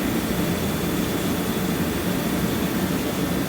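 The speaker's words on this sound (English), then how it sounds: "If you're wondering what that noise is in these videos," A steady, loud roaring blast of air and combustion from a bullet heater hums on without change, close by.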